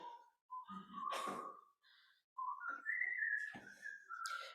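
A person whistles a slow, wavering melody during a Sunday worship service, with sustained tones separated by short breaths, clear and close in a quiet room.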